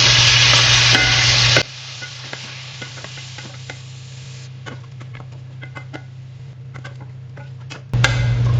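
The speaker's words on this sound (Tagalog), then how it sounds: "ilalagay natin ang ating chicken. And then, haluin natin." Chicken frying in melted butter for ginisang saluyot, a loud hiss bursting at the start and end around a quieter stretch of spoon clicks and scraping stirs, close.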